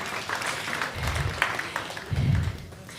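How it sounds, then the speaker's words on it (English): Audience at a live comedy special claps in two short bursts of applause, each lasting about half a second, with a brief lull between them in a room buzzing with crowd noise. "give a round of applause for Barry"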